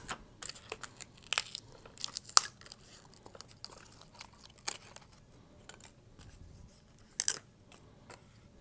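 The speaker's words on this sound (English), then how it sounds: "Trying to cut the stab away." Foam tail stabilizer being cut away from a ParkZone UM Pole Cat model plane, giving a string of faint, close, irregular crunching and tearing snips with quiet pauses between them.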